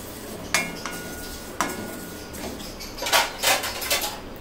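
Roasted peanuts for laddu are stirred in a pan, giving a few sharp scraping clatters of spoon on metal with gritty rustling between them, close and alone.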